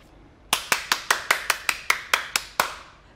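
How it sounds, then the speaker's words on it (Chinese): Eleven sharp hand claps in a steady, fairly quick rhythm, close and distinct, given by a woman for her boyfriend in a quiet indoor movie scene, with no talk over them. "作为你的女朋友，我要为你鼓掌。"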